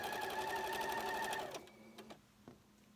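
A sewing machine stitches rows across a scrappy Valentine quilt block, humming in a steady close whir for about a second and a half, then stopping, followed by a few faint clicks and handling noises.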